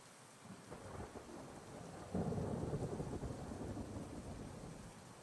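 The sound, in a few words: rain and thunder in a post-apocalyptic city builder video game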